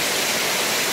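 Mueang waterfall on Koh Samui pours in a dense, steady rush of falling water, a broadband roar filling the brief moment with nothing else audible.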